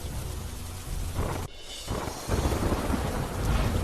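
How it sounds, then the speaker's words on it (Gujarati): Heavy rain pours with thunder rumbling and gusts of strong wind on a street, a loud, dense roar that briefly drops out and then surges back with deep booming. "ગાજવીજ અને ભારે પવન સાથે વરસાદ વરસતા રસ્તા પાણી પાણી."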